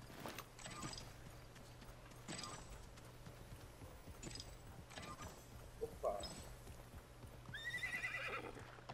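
A horse in the video game Realm Royale trots with steady, repeated hoof clops and then gives a short neigh near the end. The sounds are faint and come over low game ambience.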